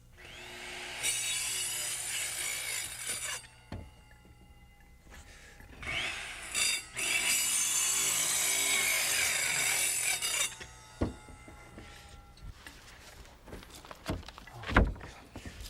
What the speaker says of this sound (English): with careful plunge cuts, I cut out by eye between the marks